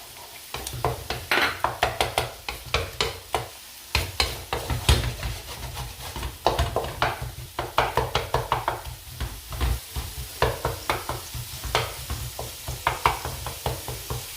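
A utensil scrapes and knocks steadily against a pan while egg is stirred and broken up as it fries for Thai fried rice. The clatter is close and rhythmic over a constant sizzle, with no talking.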